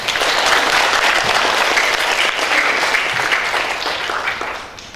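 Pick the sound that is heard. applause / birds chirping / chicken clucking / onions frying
applause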